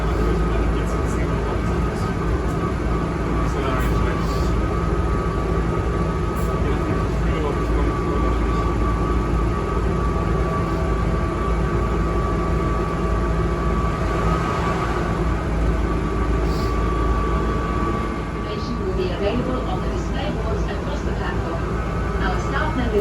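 A steady, loud rumble of a train riding into Paris fills the whole stretch, with a constant mechanical drone and faint rattles from the carriage.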